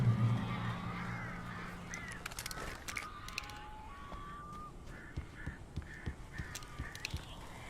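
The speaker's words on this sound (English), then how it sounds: "These birds are weird." Crows caw in the Alan Wake video game, several harsh calls spread across the clip over a low ambient background, with no talking.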